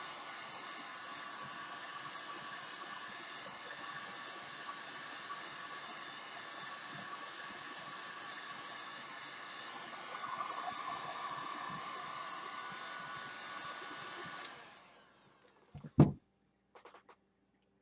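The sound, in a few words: heavy duty Mastercraft heat tool running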